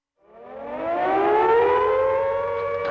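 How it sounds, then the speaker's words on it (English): An air raid siren winds up from silence, its wailing tone rising in pitch and swelling to a loud steady howl. "The siren went off at night"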